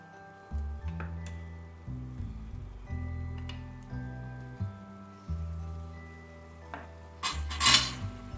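A metal utensil scrapes and clinks in a pan while bean sprouts and meat are stirred together, giving a steady series of soft scraping strokes and light taps over a quiet background, with a brief sizzle near the end.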